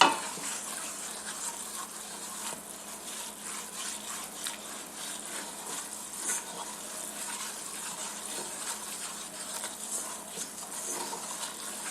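Gumbo roux boiling in a pot as it is stirred, a steady close bubbling and sizzling hiss with faint scraping, continuous and fairly even throughout with no talking.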